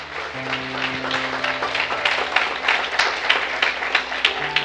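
Church congregation applauding during a Sunday morning sermon, steady clapping under a sustained musical tone, with sharper individual claps standing out near the end.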